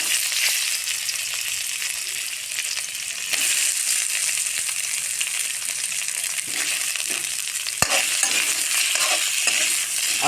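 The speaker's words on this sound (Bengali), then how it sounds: "হালকা করে আলু ভেজে নেব।" Boiled potatoes fry lightly in oil, a continuous dense sizzle and hiss running throughout with faint stirring scrapes and one sharp tap of a utensil against the pan.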